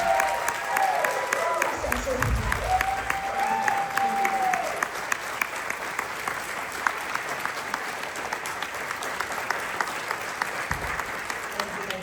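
Sustained audience applause for the Lieutenant Governor at a Democratic Party reorganization meeting, dense and steady for about twelve seconds, with a few voices briefly heard near the start.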